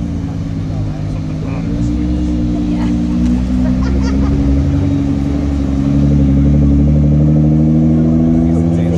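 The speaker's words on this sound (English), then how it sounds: "You guys hear that exhaust on that bad boy." A Nissan GT-R engine rumbles with a deep, steady exhaust drone that swells louder toward the end, sustained and close, at a cars and coffee meet.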